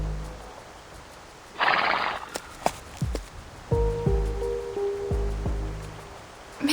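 Horses neigh and whinny in a fantasy game story scene, with a burst of noisy rustle early on, then several loud whinnies and hoof clip-clops close by, no talking.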